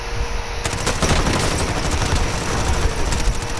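Sustained automatic gunfire from the Call of Duty: Warzone video game, a dense continuous burst of rapid shots running loud throughout with no talking.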